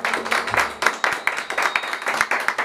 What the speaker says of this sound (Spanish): Que el aplauso fuerte para ellos.